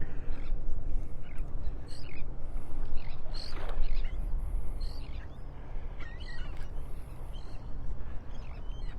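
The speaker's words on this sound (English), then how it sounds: "A lot of birds over on the other shore." Birds calling across the water from the far shore of Delnor-Wiggins beach in North Naples, Florida: faint scattered chirps and cries under a steady wash of surf and wind.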